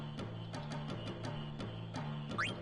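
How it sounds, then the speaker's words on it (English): Frogs croak in Final Fantasy IX during the frog-catching minigame, a steady run of regularly spaced croaks over a continuous game background, with a brief rising chirp near the end. "We got a bunch of frogs here."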